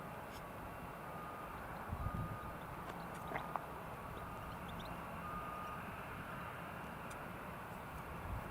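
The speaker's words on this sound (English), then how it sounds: "That's a Ryanair, so this is our first departure." A Ryanair airliner departing Newcastle airport gives a faint, distant, steady roar over outdoor background noise.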